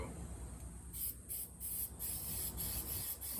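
Several short hissing bursts of Rust-Oleum high heat spray paint being applied to a truck bed, each spray a soft airy whoosh repeating irregularly over a low background rumble.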